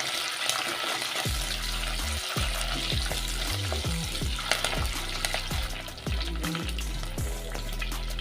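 Curry leaves and green chillies frying in a pan for an onion curry, a steady loud sizzle with repeated scraping strokes of a spoon stirring, no voices.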